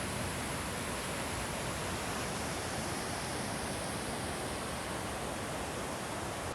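Deception Creek in the Cascades rushes past in winter, a steady, loud, broadband roar of flowing water, close and unbroken, with no voices.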